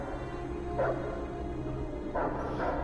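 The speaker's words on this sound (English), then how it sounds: "Cosmo's barking, isn't he?" Cosmo the dog in the Guardians of the Galaxy video game gives two short bursts of yipping barks over a steady game soundtrack, each bark fairly close and a little muffled.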